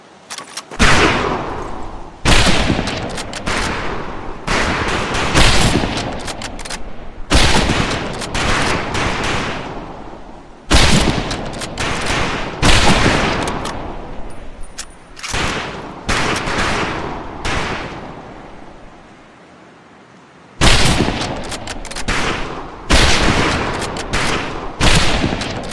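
Rifle gunfire on a boot camp firing range in the video game Medal of Honor Pacific Assault: loud, dense volleys of repeated shots in several bursts with brief gaps, one longer lull near the end, no voices.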